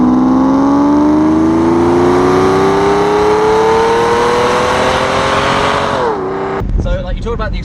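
Mercedes-Benz 600SL V12 fitted with a Remus exhaust revs up loud and close, its steady climbing drone building for several seconds before dropping off, followed by a brief burst of voices talking.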